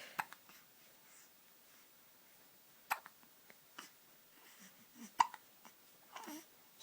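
A young child hiccups repeatedly in a quiet room, with sharp, close hiccups spaced irregularly a second or more apart and soft babbling and breathing between them.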